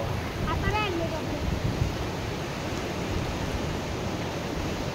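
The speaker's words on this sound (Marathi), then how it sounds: "समुद्राचं पाणी असं ज्या पद्धतीनं खवळलेलं असतं" Rough, churning sea surf breaks continuously at the seashore, a loud broadband wash with wind noise, and a few brief chirpy sounds rise over it near the start.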